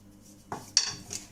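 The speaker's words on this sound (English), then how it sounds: "Get all these wee bits off the spoon." A spoon scrapes bits of biscuit dough off against a mixing bowl in a kitchen, giving two or three short, close scraping and clinking sounds over a quiet background.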